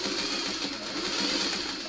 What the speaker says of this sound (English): you hold on to it and you sew it up and down for a bit